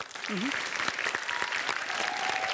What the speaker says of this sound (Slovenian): En aplavz pa seveda si zaslužita obe ekipi